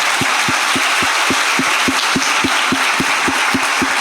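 An audience at a Christian leadership panel applauds, giving a broad wash of clapping with a regular underlying beat, as if some people are clapping in rhythm. The sound stays fairly quiet and steady, with no talking.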